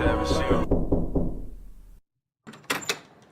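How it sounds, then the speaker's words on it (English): Knocking on a door plays as a sound effect, a few sharp raps heard near and fairly loud, set between stretches of podcast talk with a brief silence in the middle. "That sound effect for knocking the door was a little too good."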